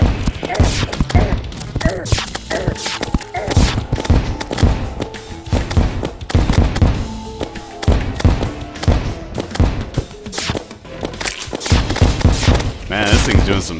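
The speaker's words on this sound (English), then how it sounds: "we're supposed to have the grenade launcher now, so why not use it?" Repeated explosive bursts and thumps from a grenade launcher in the video game Terraria, firing in rapid irregular volleys over game music and other action, with a voice talking at times.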